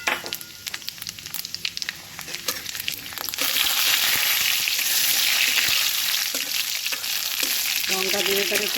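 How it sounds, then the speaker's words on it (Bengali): Cumin and green chili hit hot mustard oil in a wok, a sudden loud hiss that builds into steady, bright sizzling, with scattered clinks of stirring beforehand and near the end. "এদিকে আমি একটা কড়াই বসিয়ে সর্ষের তেল দিয়েছি পিঠেগুলোকে আমি ভেজে নেবো তো এখানে জিরে আর লঙ্কা দিই"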